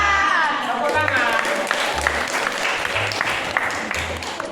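Students at a senior high school physical education lesson clap together in a steady burst of applause, with voices and a low, regular thumping beat running underneath throughout.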